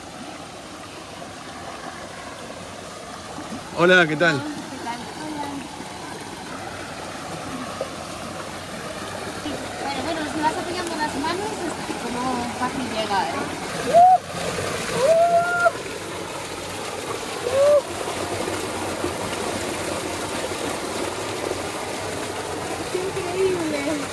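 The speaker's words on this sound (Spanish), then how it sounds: "Hay una mini cascada." Steady rushing of flowing water with a small cascade runs throughout at a hot springs in Colombia, while people talk and greet each other over it.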